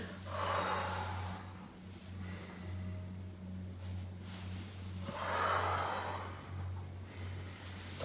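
Two long, breathy exhalations during a breathing exercise, several seconds apart, close and soft over a low steady hum.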